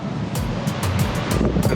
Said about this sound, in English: the waves as they're coming in, it kind of seems like there's an ocean